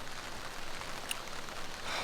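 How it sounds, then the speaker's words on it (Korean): Rain falling over a valley campsite in Gangwon-do during backpacking, a steady soft hiss of drops with no clear rhythm, close and continuous, with no voices. "비가 오네요"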